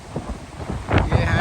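Strong night wind buffets a parked car in Australia, a rough broadband roar swelling louder toward the end of the brief stretch.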